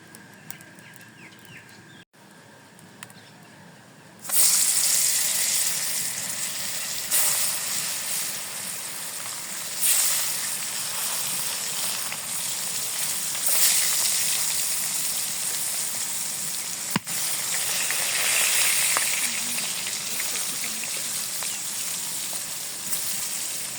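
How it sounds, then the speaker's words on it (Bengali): Fish frying in oil in a wok in a village kitchen: after a few quiet seconds, a steady, close, hissing sizzle starts and continues with small surges. No one speaks. "মাছ ভাজার জন্য কড়াইতে তেল দিয়ে দিছি"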